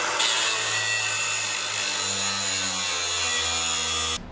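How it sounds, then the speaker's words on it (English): Old leaf springs are cut out of a truck with a power tool, giving a loud, steady grinding and whining drone that shifts in pitch as the blade bites, then stops abruptly. "gonna cut the old leaf springs out and then clean up the axle."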